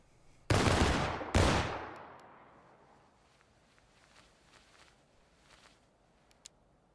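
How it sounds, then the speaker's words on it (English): Two massed musket volleys crack out in quick succession in a War of Rights battle, each a loud broad blast trailing into echoing decay, followed by faint scattered shots and clatter in the distance. "Front rank, rise, take aim. Fire."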